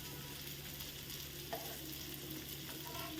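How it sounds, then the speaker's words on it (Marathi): Pomfret fish fry in hot oil for a rava fry, a steady close sizzle and crackle that holds constant with one faint clink partway through. "साधारण गोल्डन ब्राऊन होईपर्यंत आपण दोन्ही बाजूनी परतून घ्यायचे."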